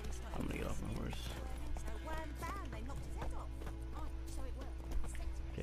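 A horse in The Witcher 3 video game clip-clops steadily at close range, with a brief whinny, while a person talks over the hoofbeats throughout.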